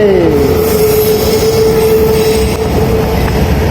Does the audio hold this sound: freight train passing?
yes